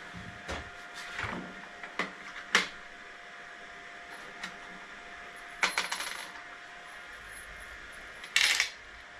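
Printer key parts being put away into a workshop drawer, with several sharp metallic clinks and clatters spaced irregularly over a quiet background, including a brighter rattle near the end.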